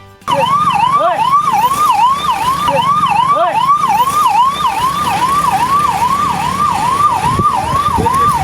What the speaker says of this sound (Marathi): लग्न समारंभ सुरू असलेल्या ठिकाणी अचानक एक रुग्णवाहिका दाखल झाली